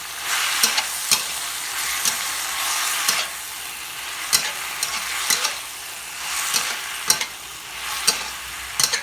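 Food sizzles steadily in a hot pan as it is stir-fried with Thai sauce, with repeated sharp scrapes and clanks of a utensil against the pan cutting through the frying hiss.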